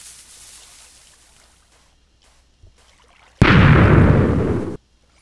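TNT cannon explosions in the Minecraft video game: faint crackling pops first, then one loud, long roaring blast that holds for over a second before cutting off abruptly.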